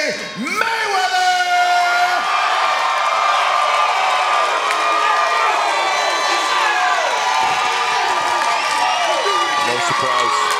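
Loud wrestling crowd cheering and whooping for the challenger at an NWA title match, a sustained roar with shouts throughout.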